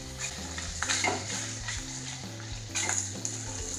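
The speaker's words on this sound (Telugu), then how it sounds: "పచ్చివాసన పోయే వరకు అల్లం వెల్లుల్లి పేస్ట్ మిక్స్ చేస్తే సరిపోతుంది" Ginger garlic paste frying in a pan with curry leaves, a steady loud sizzle with repeated scraping and clinks of a metal spoon stirring throughout, in an Andhra-style prawn curry preparation.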